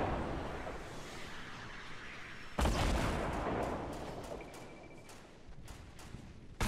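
Gunfire hits a built wall in the Fortnite video game: a sudden loud impact burst followed by a rapid series of sharp shots and hits, fairly close.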